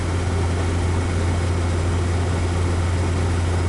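A GAZelle truck with an IVECO engine, hauling about two tonnes at roughly 2700–2800 rpm, gives a loud, constant engine drone with a strong low hum and broad noise while driving.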